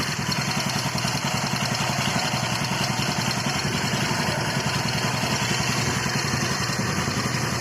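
Rusi motorcycle idling with a rattling CVT pulley, a steady engine drone with continuous metallic clatter close to the listener and no talking.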